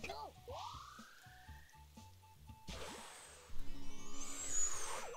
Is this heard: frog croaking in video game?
yes